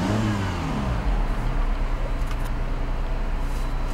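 A 2010 Mini Cooper engine revs while driving, its mid-pitched drone rising and holding strong with steady road noise throughout, close and loud.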